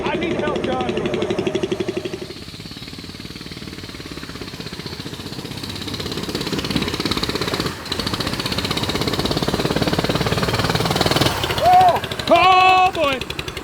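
A casket go-kart engine chugs loudly and close with a rapid knocking putter, rising and falling as people shout over it.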